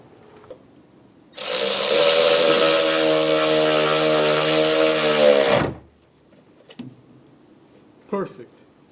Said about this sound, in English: I just got to drill one hole